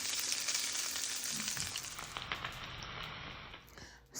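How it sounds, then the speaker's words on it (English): Green beans being mixed through sautéed potatoes and onions in a pan, with a steady frying sizzle and soft stirring scrapes close up, no talking. "So I laid those green beans over top those sauteed potatoes and onions, and I mixed them through."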